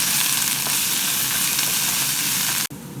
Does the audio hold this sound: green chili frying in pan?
yes